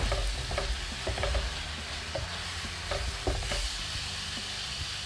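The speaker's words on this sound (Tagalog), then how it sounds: "Napiprito na siya sa kanyang mantika." Adobong puti frying in its own oil in a pan, a steady close sizzle with scattered pops and occasional stirring scrapes throughout, no voices.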